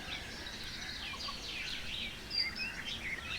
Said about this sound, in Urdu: یہ چیڑیوں کی چہچہاہٹ جو آپ کے کانوں میں رس گھول رہی ہے